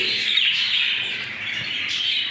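Cockatiels in an aviary give a continuous stream of shrill, high chirping calls, close and fairly loud, with several birds overlapping and no talk.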